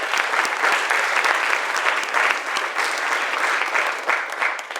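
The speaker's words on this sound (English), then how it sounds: "Give him a round of applause for both of them, y'all" A hip hop talk audience breaks into a loud, dense round of applause, continuous clapping filling the room for several seconds with a faint crowd murmur beneath.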